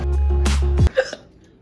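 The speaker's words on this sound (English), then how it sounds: "Hiccups." A single hiccup, a sharp throaty gulp heard close and fairly loud over a steady low background hum, followed by a softer trailing catch.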